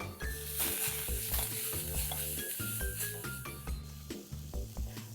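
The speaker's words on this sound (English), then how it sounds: "Saute all these vegetables for a minute." Chopped vegetables including carrot sautéing in a pan for winter soup, a soft continuous sizzle with frequent stirring scrapes and light utensil clinks, close but quiet, with faint background music.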